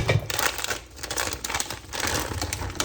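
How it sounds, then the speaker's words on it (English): Scissors snip and crinkle through a plastic bag of Haribo berries up close, a run of crisp cuts and rustling plastic with no voices. "I'll use scissors."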